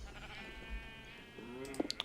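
A single sheep in the Minecraft video game bleats faintly, a short wavering call followed by a few small clicks.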